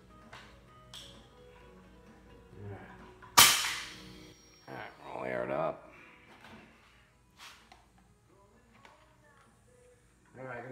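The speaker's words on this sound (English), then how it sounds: "Shoot that 3/4 plywood first." An air gun fires once into 3/4-inch plywood, a single sharp, loud crack. Quiet talk and handling noises follow.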